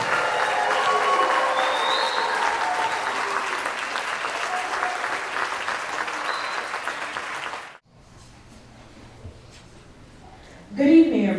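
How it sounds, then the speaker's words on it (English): A high school jazz ensemble receives a loud, dense round of applause from a concert audience that runs steadily for several seconds, then cuts off into a quieter room before a voice begins speaking. "Give them a large round of applause."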